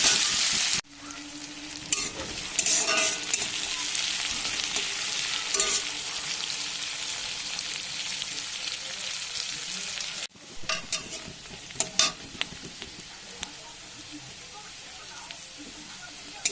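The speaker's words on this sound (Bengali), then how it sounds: "পেঁয়াজগুলো একটু ভালো করে ভেজে নেব" Onions fry in a pan of oil with already-fried cumin and chilli while cooking a papaya and potato curry, giving a continuous close sizzle broken by scraping and clattering stirs, with one abrupt pause partway through.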